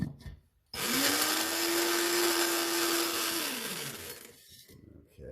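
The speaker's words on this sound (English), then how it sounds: "So we'll go ahead and put my handy dandy coffee grinder right here." An electric coffee grinder pulverizes a few eggshells at a time, its loud, steady motor whine and rattling grind running for about three seconds before spinning down to a stop.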